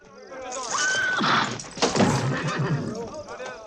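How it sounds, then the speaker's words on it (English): A horse whinnies loudly during a film stunt fall in the 1983 Bond film Never Say Never Again, followed by thuds and hoof clatter, with voices talking over the action. "How do you make a horse fall like that?"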